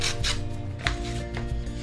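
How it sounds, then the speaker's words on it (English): Wet-dry sandpaper fitted on a sanding block rubs along the edges of a canvas panel in a steady back-and-forth rasp, close and fairly loud with short strokes repeating throughout. "I'm going to sand the edges of this so they're smoother"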